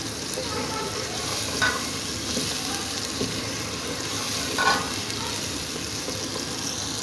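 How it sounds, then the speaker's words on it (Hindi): A spoon stirs masala roasting in a pan for egg curry. Steady frying sizzle runs throughout, broken by a couple of brief scraping strokes of the spoon against the pan. "मैं मसाले की जो है वो भुनाई कर रही हूँ, लगातार इसमें चम्मच चला रही हूँ।"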